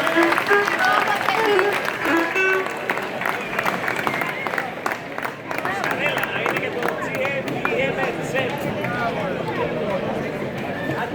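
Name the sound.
audience applause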